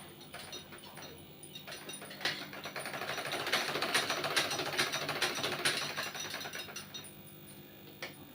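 Sewing machine stitching a suit, a quiet rapid mechanical whir of the needle that swells to a steadier run in the middle and tapers off, close by and fairly faint, with no talk over it.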